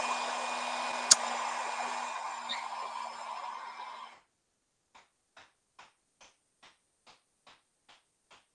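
A heat gun blows a steady, close whooshing airflow over alcohol ink on canvas for about four seconds, then shuts off, followed by a series of faint, evenly spaced soft ticks.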